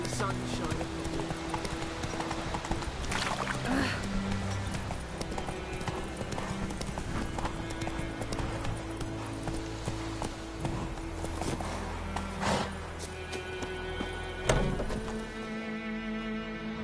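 Horse hooves clip-clop at a steady gallop in a PS4 video game, loud and continuous over background game music and ambience.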